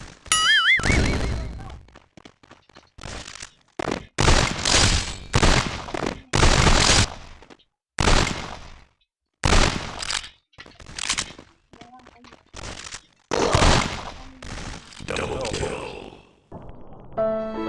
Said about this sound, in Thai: ยิงไม่ค่อยขึ้นหัวเลยอะปืนเนี่ย